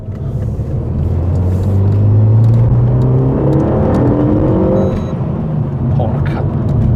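A Renault Megane RS Trophy engine revs up from low rpm into a loud, rising whine, heard from inside the car, and then eases off.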